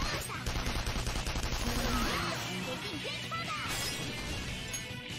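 Gunfire in the Persona 5 Royal game rattles out in dense, overlapping volleys with crashing impacts, loud and continuous throughout with hardly any let-up.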